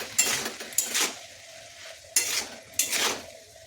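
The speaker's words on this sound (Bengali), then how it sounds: "পরিমাণ মতো নুন, খুব সামান্য হলুদ আর কালারের জন্য কাশ্মীরি লঙ্কার গুঁড়ো দিয়ে ভালো করে নেড়ে নেব।" Vegetables with salt, turmeric and Kashmiri chili powder being stirred in a pan: a few scraping spoon strokes and clinks over a faint sizzle, with brief pauses between strokes.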